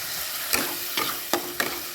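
Poppy seed paste stirred in a hot frying pan for an onion-poppy seed hilsa dish: a close, steady sizzle broken by three or four sharp scraping strokes.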